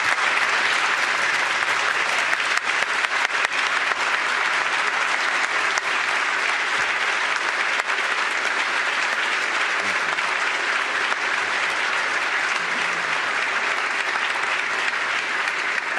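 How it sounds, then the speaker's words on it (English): Sustained applause from the audience at a state governor's State of the State address, loud and dense, continuing steadily for the full stretch without letting up. "Please join me in applauding her years of service to this state."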